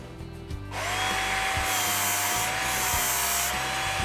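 A kitchen knife blade grinds steadily against a running belt sharpener, a continuous close abrasive whir with a sustained hum underneath.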